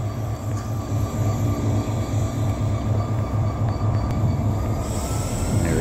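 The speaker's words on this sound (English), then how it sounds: "Got the air filling up. You hear that going in." Steady hiss and rumble of air filling the brake line on a steel yard locomotive, a continuous loud drone with a low pulsing throb, close by, no talk.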